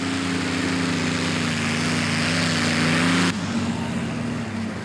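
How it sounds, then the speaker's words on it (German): Impala, a Dutch tractor competing in tractor pulling, roars loudly and steadily before abruptly backing off the throttle, leaving a lower, fading engine drone. "Impala, ein Traktor aus den Niederlanden."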